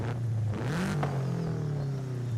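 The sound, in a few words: Subaru WRX boxer flat-four engine revving in video game Forza Horizon 5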